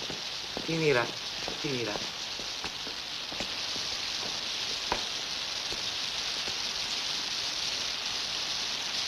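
Steady rain falls outdoors beside the refectory of Santa Maria delle Grazie, a constant hiss with scattered drops throughout, while voices speak briefly over it near the start.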